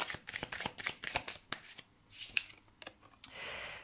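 A mantra card is drawn from a deck: a quick run of papery card riffles and flicks, close and distinct, followed by a few softer slides and taps, with no talking.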